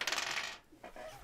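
Dice rolling on a table during a tabletop game: a bright rattling clatter that settles, followed by a few faint knocks, quiet and without talk.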